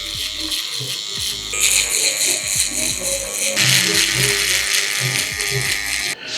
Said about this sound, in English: use a single foil shaver